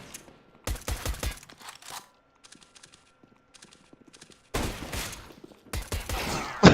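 Counter-Strike: Global Offensive gunfire arrives in loud, close bursts of rapid shots, separated by a stretch of faint scattered clicks and footsteps, with another heavy volley toward the end.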